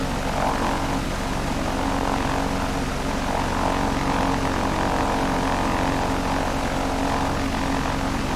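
Small propeller plane in the X-Plane 11 flight simulator on a landing approach to Harrisonville, Missouri airport, with a steady, loud engine drone and propeller hum running unbroken throughout.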